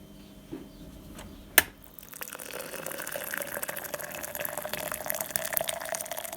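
Water runs from a tap into a pot for boiling during beer bottling prep: a couple of clicks and a clank, then a steady, moderately loud stream of filling water.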